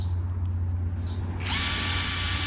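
An OSUKA cordless brushless electric impact wrench spins up halfway through, a bright buzzing whir over a steady low hum, close and moderately loud.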